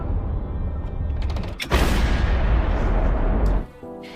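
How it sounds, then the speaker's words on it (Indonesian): A huge explosion levels a hut in an Afghanistan war film, a loud, dense roar that swells sharply partway through, rumbles on for about two seconds, then cuts off abruptly. "ledakan maha dahsyat berhasil menghancurkan gubuk tersebut hingga rata menjadi"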